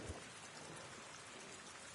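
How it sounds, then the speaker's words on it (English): Rain in the video game Avatar: Frontiers of Pandora hisses as a steady, dense wash with no breaks, quiet and even throughout, with a faint low rumble near the start. "That's just the rain."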